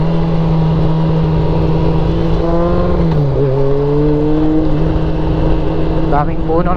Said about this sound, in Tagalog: Tahimik na lugar, tapos maingay yung motor natin.